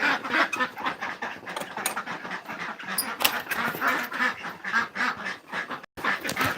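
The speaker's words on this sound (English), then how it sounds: "Now we're gonna piss the ducks off." Ducks on a farm at night quack loudly and continuously in a dense, overlapping chorus, close by, with no pauses and no talk.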